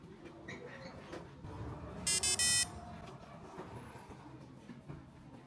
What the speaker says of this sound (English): Wait for the buzzer to play an ascending melody and the LED to light up